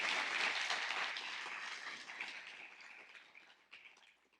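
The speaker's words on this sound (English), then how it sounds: "So a huge round of applause to Trina." A conference audience claps in a dense burst of applause that starts strong and gradually thins and fades over a few seconds.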